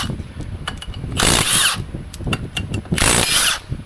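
A power tool drives the wheel adapter off a Honda Talon utility vehicle with Can-Am lug pattern, close and loud: two strong rattling bursts of about half a second each over a steady mechanical whine, with no talking.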